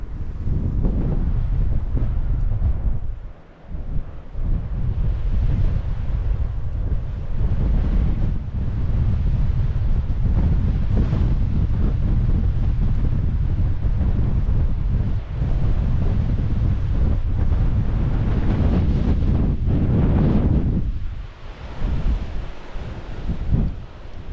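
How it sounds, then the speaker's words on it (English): Strong wind on the Dorset coast buffeting the microphone in a loud, continuous low roar with gusts, with surf faintly beneath, sustained for over twenty seconds. "it is really windy"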